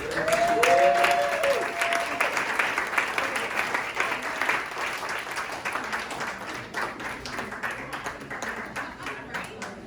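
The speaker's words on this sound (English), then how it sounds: "Help me give a huge thank you to Dr. Mendoza for this week." An audience at an educator academy event breaks into applause, many hands clapping loudly at first and then settling into a steadier patter, with a brief voice heard at the start.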